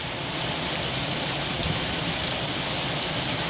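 Heavy rain pours steadily during a humid Manitoba rainstorm, a loud, dense, unbroken hiss of drops hitting surfaces close by, with no talking.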